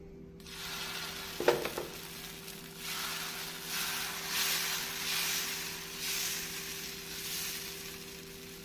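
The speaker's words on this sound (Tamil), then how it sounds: "நன்றாக தடவியவுடன் நாம் தோசை மாவினால் ஊற்ற வேண்டும்." Dosa batter sizzling steadily on a hot griddle greased with oil, a continuous close hiss with a brief clatter near the start.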